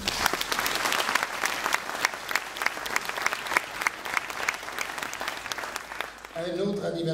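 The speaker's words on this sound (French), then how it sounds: "On peut les applaudir." An audience at a mayor's New Year address in a French town gives sustained, dense applause that fills the room, then fades out at the end.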